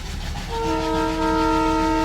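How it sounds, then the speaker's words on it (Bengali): A Darjeeling toy train steam engine on the Batasia Loop sounds a sustained, loud whistle over a low rumbling of the locomotive, beginning about half a second in and holding to the end. "কয়লা দিচ্ছে, কয়লা কয় ট্রেন উঠছে উপরে"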